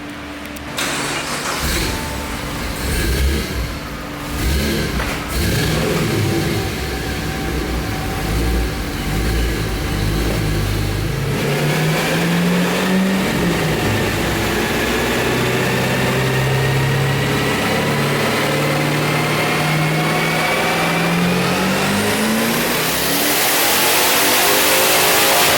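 Twin turbo Camaro engine fires up and idles roughly, then revs repeatedly with rising pitch and a long sustained climb near the end, loud and close with no talking.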